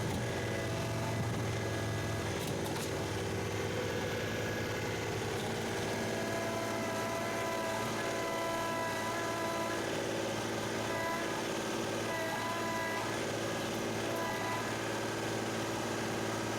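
A John Deere 2038R compact tractor works a King Kutter box blade, its engine holding a steady, loud mid-pitched drone with a constant rumble throughout, no speech over it.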